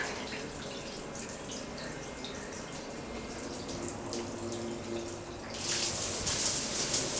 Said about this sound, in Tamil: இது வந்து ஹேண்ட் ஷவர்.